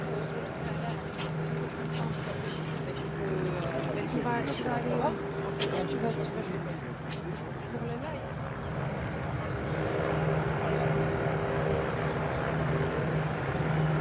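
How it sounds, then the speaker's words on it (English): An Airbus A350 XWB on its final approach to land at Toulouse in light winds, heard as a steady, continuous engine drone with a tonal hum throughout, as voices talk over it. "Aircraft looking very stable on its final approach."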